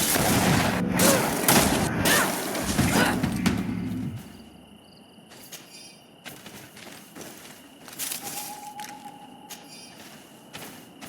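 A grenade blast booms in the GreedFall video game, a loud burst of explosive noise lasting a few seconds, then quieter ambience with scattered clicks and faint steps.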